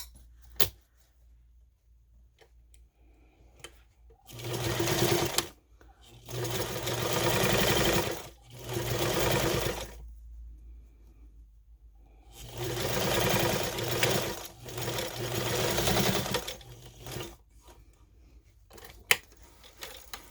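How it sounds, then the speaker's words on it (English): A sewing machine runs a 1/4 inch seam along the edge of fabric for a book bag, in several loud close bursts of steady whirring stitching separated by short quiet pauses and a few clicks. "we're going to do the same thing we did on the other side, 1/4 inch seam from the"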